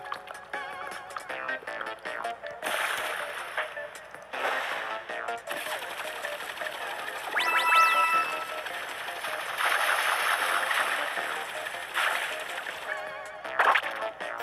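Water splashing and sloshing from the water jet in Super Mario Odyssey's Seaside Kingdom, a steady gushing spray with bursts that rise and fall over game music and effects.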